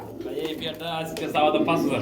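Long-face pigeons coo softly and continuously while people talk close by at a pigeon sale.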